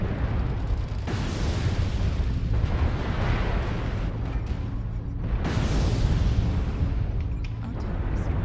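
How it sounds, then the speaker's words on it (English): Artillery strike explosions in MechWarrior Online, two sudden heavy booms a few seconds apart, each trailing off into a rumbling roar over constant battle noise. "Artillery strike activated."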